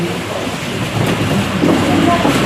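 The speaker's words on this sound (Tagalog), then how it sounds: "huwag po kayo magtataka kung bakit pumapatak ang ulan" Steady rain falls in a loud, continuous hiss at an evening outdoor religious gathering, with faint murmuring beneath.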